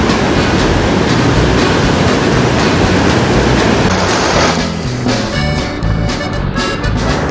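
Sea waves wash ashore on Bapatla beach, a loud, continuous roar of surf that fills the whole clip and eases slightly toward the end, with no voices.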